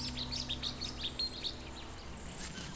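Young cinnamon sparrows near their old nest give a series of high, thin chirps, repeated several times at moderate distance over faint steady background noise.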